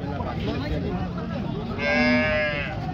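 A farmer's cow at a cattle market lets out one loud, drawn-out moo near the end, close by, over crowd noise and nearby voices.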